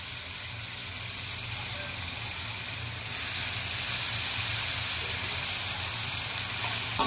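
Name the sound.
onion and tomato frying in a pan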